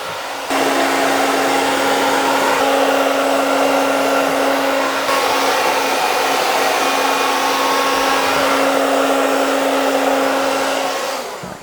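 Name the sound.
hair dryer with diffuser drying hair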